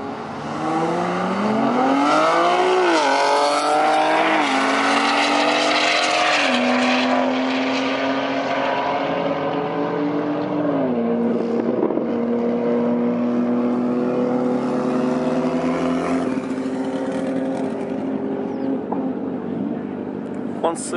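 A big-turbo BMW 340i and a Dodge Viper run a roll race, engines roaring at speed with rising and falling pitch sweeps as they shift, loud and sustained before fading toward the end.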